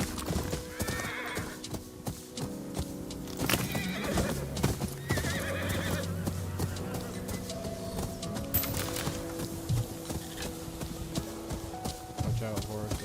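Horses gallop and neigh in the Ghost of Yotei video game, with rapid hoofbeats, several whinnies and game sound effects over music, while a person talks intermittently.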